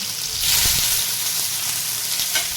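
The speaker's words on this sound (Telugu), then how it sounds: "ఆనియన్స్ వేసుకొని ఫ్రై చేసుకున్నాను ఇప్పుడు పచ్చిమిర్చి యాడ్ చేశాను" Onions and green chillies fry in hot oil with cumin, giving a steady, loud sizzle close by, with a few brief stirring knocks and no talking.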